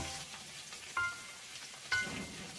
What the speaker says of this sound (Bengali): টমেটোটা নরম হওয়া পর্যন্ত আমি ভাজতে থাকবো।